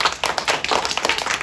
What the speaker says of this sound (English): Everybody give Kimberly a round of applause